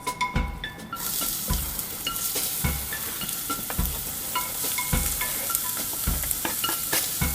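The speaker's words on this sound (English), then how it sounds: "So when your oil is hot, add your diced onions." Diced onions hitting hot olive oil in a pan for a quick tomato sauce, a loud steady sizzle up close with repeated scraping and tapping of a utensil stirring them, no speech.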